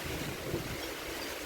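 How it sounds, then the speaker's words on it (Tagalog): Strong wind gusts during Typhoon Kristine, heard from inside a house: a steady, broadband rushing roar with low buffeting rumble on the microphone, no voices. "Ang lakas ng hangin."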